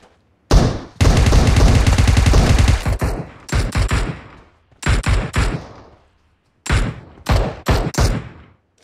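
Loud PUBG Mobile gunfire on the Vikendi map comes close up in rapid automatic bursts. One long sustained volley is followed by several shorter clusters of shots, separated by brief silences.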